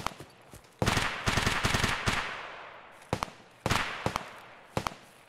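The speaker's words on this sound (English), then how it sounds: "That's a scav getting shot by a player." Gunfire in Escape From Tarkov as a player shoots a scav near a farm: several sharp bursts of shots, some rapid automatic strings, loud and fairly close with decaying echoes between them, no talking.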